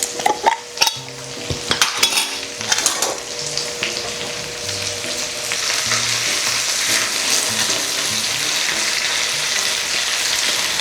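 Potatoes fry in a pan with a steady sizzle, opening with several sharp clanks of a utensil stirring against the pan before the frying settles into a continuous hiss.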